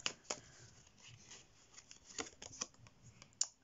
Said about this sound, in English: get some clarifying cards out